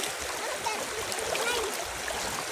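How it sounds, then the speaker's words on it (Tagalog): A river flows, rushing and burbling continuously, a broad, steady wash of sound with small splashy ripples on top. "Diyan sa gitna, dumadaan yung ilog."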